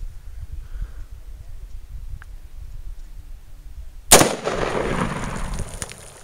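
A rifle fired outdoors at a floating tannerite target: a sharp, loud crack after several quiet seconds, then a rolling, sustained rumble fading off. Faint talk and outdoor noise come before it.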